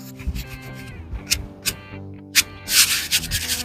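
A rough bristle brush scrubs glue onto a campervan interior panel, a series of short scratchy swishing strokes, close and fairly loud, with a longer rasping stroke near the end.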